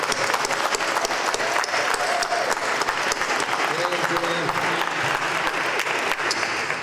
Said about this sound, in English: somebody who does such a good job as Joanne does deserves a second round of applause